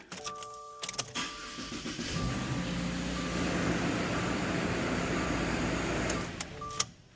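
A car engine is cranked and starts after some clicks, the starter whirring for a moment before the engine catches into a steady idle and then shuts off with a final clunk; close by, no talk.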